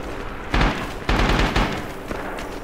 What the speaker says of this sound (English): Goddamn grenades